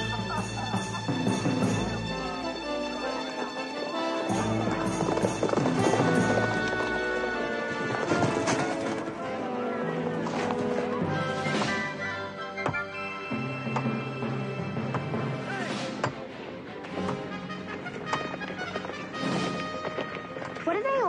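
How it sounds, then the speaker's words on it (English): Horses' hooves clip-clopping at a gallop over a music score, with rhythmic hoofbeats, occasional whinnies and voices heard through the scene. "Get the horses."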